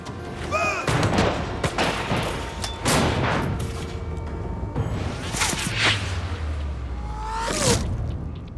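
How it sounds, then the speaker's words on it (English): Musket volley during a French charge on the battlefield, loud booming gunfire bursts and cracks layered with whooshes and rumbling impacts in a dense, continuous battle mix without speech. "The rash French volley mostly misses its mark."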